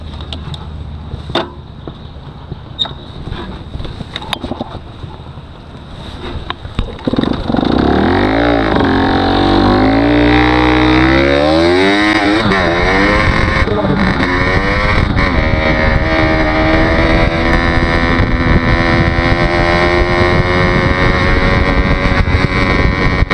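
Motorcycle engine cranks and catches after a few seconds of quiet rustling, then idles and revs steadily, loud and close, with pitch rising and settling into a continuous running drone.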